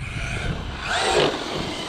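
A Traxxas Slash 4x4 MMX6S RC truck driving, its electric motor whining up and down in pitch as it speeds past, fairly close and without talk.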